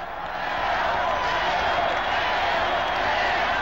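Royals fans at a 1980 World Series game against the Phillies in Kansas City raise a broad, steady stadium cheer, a continuous roar of crowd noise that swells in the first half-second and then holds loud throughout.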